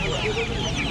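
Fighter chickens at a busy hen market cluck in a dense, continuous jumble close by, thick with background crowd noise.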